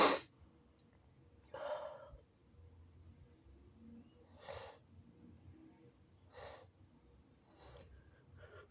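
Someone tries to hold back induced, wet sneezes, producing a series of short stifled snorts and sharp breaths spaced a second or two apart, close and moderately loud over quiet room noise.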